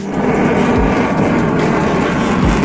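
Jet aircraft fly over Marina Beach in Chennai during air show trials, a loud, steady, broadband roar that holds without a break.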